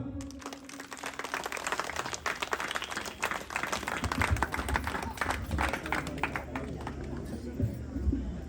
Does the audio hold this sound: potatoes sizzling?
no